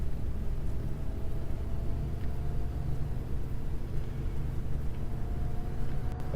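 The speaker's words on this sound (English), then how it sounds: "You can hear me gradually applying the accelerator, and the sound changes to compensate" Simulated TransBus ALX400 bus engine in the OMSI 2 driving game, a steady low rumbling drone that holds evenly throughout as the accelerator is gradually applied, with no talk over it.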